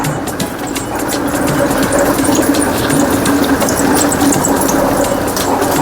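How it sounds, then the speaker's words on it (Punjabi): A loud, steady tractor engine drone with a continuous mechanical churning and rattling of a sugarcane crusher close by, running without pause throughout. "ਆ ਇਧਰ ਸਾਹਮਣੇ ਵੇਲਣਾ ਚੱਲਣ ਡਿਆ ਟਰੈਕਟਰ ਦੇ ਨਾਲ"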